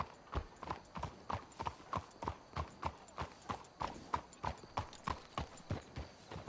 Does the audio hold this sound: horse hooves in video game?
yes